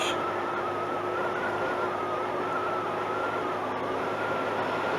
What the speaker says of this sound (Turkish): Şimdi buradan hafiften gazı açtık.